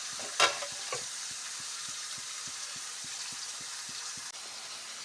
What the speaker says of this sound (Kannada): ಈರುಳ್ಳಿ ಫ್ರೈ ಆಗ್ತಾ ಇರಬೇಕು. ಫುಲ್ಲು ಡೀಪ್ ಫ್ರೈ ಆಗಬೇಕು ಈರುಳ್ಳಿ.